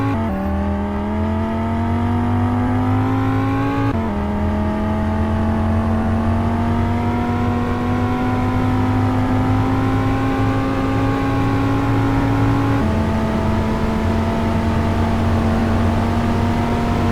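An Audi RS3 in a video game accelerating at full throttle, its engine droning loud and steady as the pitch climbs through each gear, with two distinct drops at the shifts.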